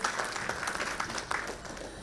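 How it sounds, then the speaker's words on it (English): Audience applause for panelists at a 2022 ESG summit session in India, a short burst of steady mid-level clapping from the hall. "give a big round of applause for all the eminent panelists"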